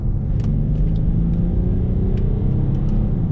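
A Jaguar XF 3.0D V6 diesel in dynamic mode accelerates on a road, heard from inside as a loud, steady low engine rumble with a rising drone and no talk.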